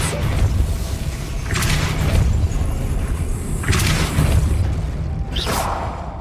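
A Depulso spell is cast in Hogwarts Legacy, and several forceful whooshing blasts arrive at spaced intervals. Each one hits with a deep thump over a steady low rumble, and no speech is heard.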